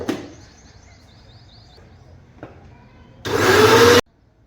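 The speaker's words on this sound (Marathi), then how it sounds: "कारण मिक्सरच्या आवाजानं उठेल असं वाटतं मला." A kitchen mixer grinder roars on loud and close for under a second near the end and then cuts off abruptly, after a quiet stretch of faint household sounds and clicks.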